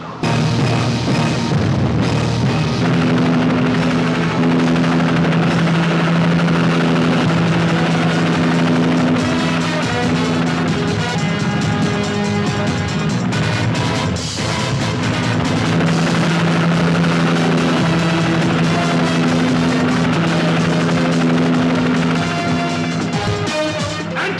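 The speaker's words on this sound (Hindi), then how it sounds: "हेलीकॉप्टर!" Helicopter in a Pakistani action film set around Manila, loud and sustained across the whole stretch, with a steady engine drone and a dense, full roar that holds level throughout.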